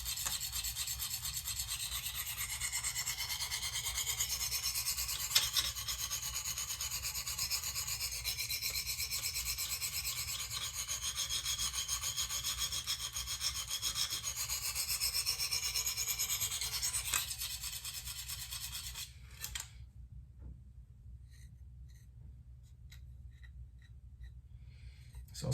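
A KME sharpener stone rasps in long, steady strokes along a Benchmade Steep Country knife blade, close and continuous for about twenty seconds before stopping, leaving faint scattered ticks in near silence.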